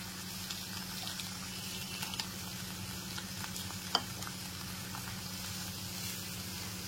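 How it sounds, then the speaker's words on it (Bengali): Fried potatoes being stirred into cooked masala in a pan for an ol dalna, a faint low sizzle with soft scraping and one sharp clink, set against a steady background hum. "এরপর এর মধ্যে ভেজে নেওয়া আলুগুলো দিয়ে দিচ্ছি"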